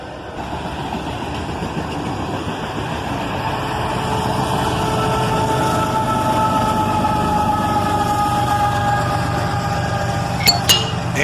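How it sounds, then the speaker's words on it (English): A northbound autorack freight train led by a single ES44AC locomotive rolls past with a steady rumble that builds in loudness. Cars clank and squeal on the rails, and a few sharp metallic clinks come near the end. "A northbound autorack train, led by a single ES44 ACH."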